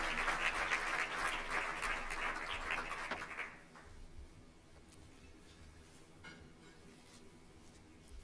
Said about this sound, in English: Sir, we applaud you.